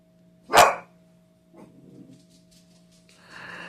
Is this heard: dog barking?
yes